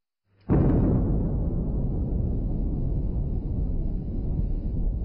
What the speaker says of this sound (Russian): Взрыв первой китайской атомной бомбы потряс весь мир.